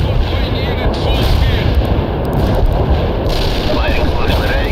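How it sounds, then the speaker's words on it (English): Heavy artillery strike firing in the video game World in Conflict, a dense continuous roar of booms and thuds layered together, loud and steady throughout with a faint voice mixed underneath. "Heavy artillery strike fire"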